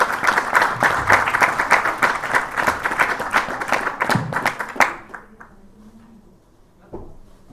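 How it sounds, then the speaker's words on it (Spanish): An audience at a book launch for "Perfiles de derecha" claps steadily for about five seconds, a dense patter of hands that fades to scattered claps and near silence. "Un aplauso, por favor."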